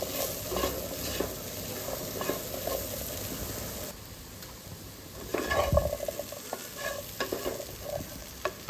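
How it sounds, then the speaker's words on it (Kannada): Garam masala powder frying in ghee, stirred steadily in a pan with scraping spoon strokes and a soft continuous sizzle, a few louder clatters near the end. "ಇದನ್ನು ಚೆನ್ನಾಗಿ ಈ ಥರ ಫ್ರೈ ಮಾಡ್ಕೊಳ್ಳಿ ಅದೇ ತುಪ್ಪದಲ್ಲಿ"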